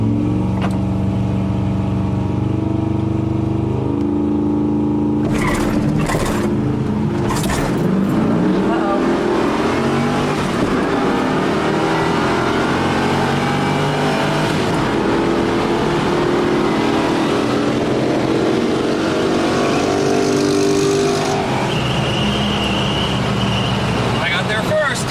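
A 1966 Ford Mustang race engine roars loud and close for the whole stretch, its deep, steady drone swelling as the car accelerates, with sharp bursts near the start.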